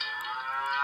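An animal sounds app on a device plays a cow's moo, a single short, steady bovine call heard alone at moderate volume.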